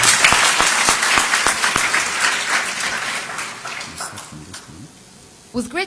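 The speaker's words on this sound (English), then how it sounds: "Give them a warm applause" A crowd at a student architecture contest claps warmly for a pair of twin presenters, loud dense applause that gradually thins and fades before a speaking voice briefly returns at the very end.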